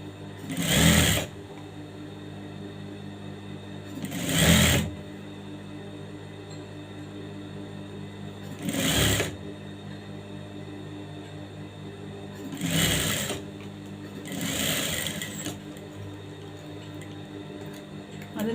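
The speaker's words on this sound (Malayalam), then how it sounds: "എന്നിട്ട് എഡ്ജിലൂടെ സ്റ്റിച്ച് ചെയ്ത് കൊടുക്കണം." A sewing machine runs stitches along a fabric edge in five short bursts of steady whirring, spaced by quiet pauses, close and clear.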